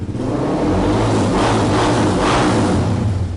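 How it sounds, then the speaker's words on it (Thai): A 2019 Honda CB300R single-cylinder motorcycle idles or revs steadily, its exhaust giving a loud, close, continuous throaty rumble with slight swells in pitch, and no voices over it. "ท่อลูกสูบลูกเดียวนะครับ ก็จะลั่นๆหน่อยนะครับ"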